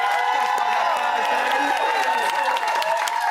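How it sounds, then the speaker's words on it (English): A studio audience applauds and cheers for the panel of a Big Brother companion show, with a steady wash of clapping and whoops running under a voice speaking over it throughout. "I've already started clapping, but again, give it up for our panel tonight"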